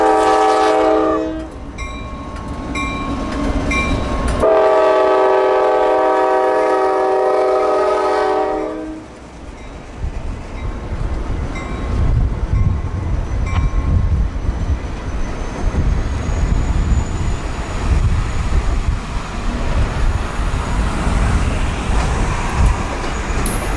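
Two ex-Amtrak EMD CSX F40PH-2 cab units haul a train of historic passenger cars, sounding loud, sustained chorded horn blasts, then the low rumble of the passing train and rolling wheels with rail clatter.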